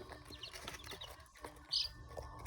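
Chickens kept in a pen alongside pheasants cluck softly and intermittently at close range, with one sharper, louder call near the end over a low background hum.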